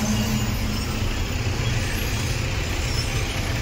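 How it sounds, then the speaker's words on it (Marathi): Heavy truck traffic crawls in a jam near the Panchganga river in Kolhapur, a dense, steady low rumble of idling and creeping engines that stays close and loud throughout, with no voices. "थोडी ट्रॅफिक जाम लागली आम्हाला."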